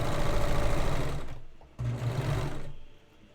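Serger overlock sewing machine cutting and overlocking fabric, a steady fast mechanical whir that stops briefly, starts again, then winds down.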